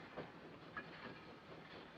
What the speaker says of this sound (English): The train is leaving.